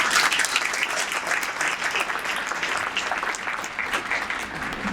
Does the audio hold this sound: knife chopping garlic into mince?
no